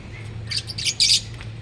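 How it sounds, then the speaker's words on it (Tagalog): Several pet birds, including a parblo, chirping and squawking nearby in short, bright bursts over a low steady hum. "Ito yung mga ibon ko na pinaparapol guys."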